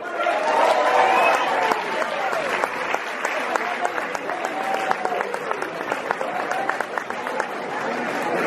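Warm audience applause greets a musician at a live show, steady clapping with crowd murmur and a voice over the top early on, continuing throughout at a moderate level.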